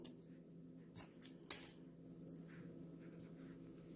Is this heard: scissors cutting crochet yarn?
yes